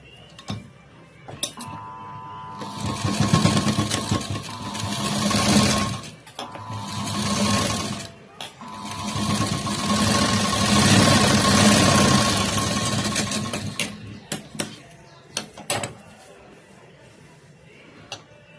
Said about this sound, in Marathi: आता याच्या अजून एक बाजूला एक शिलाई देऊन घ्यायची.